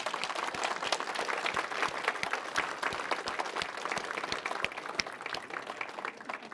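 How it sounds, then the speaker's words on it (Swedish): Steady audience applause at a 101st birthday celebration for a hearing association, dense even clapping from a sizable crowd, moderately distant, continuing for several seconds with no talk over it. "Jag tycker vi ger dem en stor applåd här."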